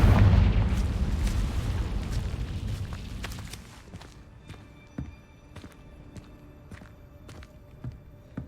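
A Confringo blasting spell goes off in Hogwarts Legacy, a loud low rumbling burst that is already underway and fades over about three seconds. Scattered footsteps and small clicks follow in a quieter game scene.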